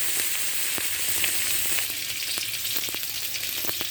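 Magur catfish frying in hot oil gives a loud, steady sizzle with crackling pops and spits scattered throughout, close up and without any voices.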